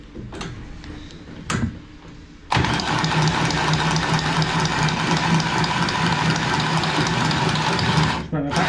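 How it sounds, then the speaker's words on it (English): A stainless steel cutter cutting through pipe, a loud continuous grinding whir lasting several seconds after a few short knocks, then stopping abruptly. "I'll show you how well this stainless steel cutter cuts."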